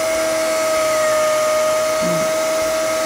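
A vacuum draws air out of a sack of napier grass silage to compress it, giving a loud, steady, close motor whine with a constant tone throughout.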